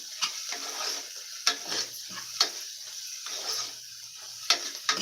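Chopped onion sautéing in a pressure cooker base, a steady soft sizzle broken by several sharp stirring scrapes and taps of a spoon against the metal, close and moderately loud with no talking.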